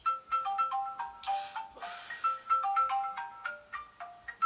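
A phone ringtone plays a repeating electronic melody at close range, loud and continuous, with no talk over it.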